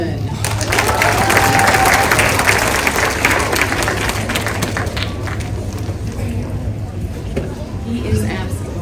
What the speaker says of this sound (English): we're giving everybody a round of applause